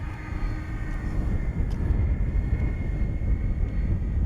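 A large remote-control MiG 31 jet with twin 127mm electric ducted fans flies past, a loud sustained rushing whine and roar that holds steady throughout, close and with no voices.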